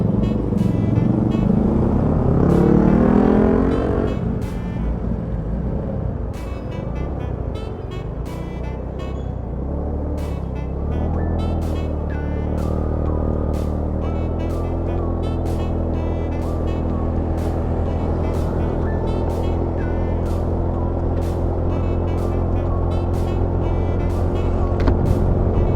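A scooter riding along a national highway in traffic near Muntinlupa during an Independence Day ride, with a steady loud engine and road roar, wind rush, and passing vehicles throughout.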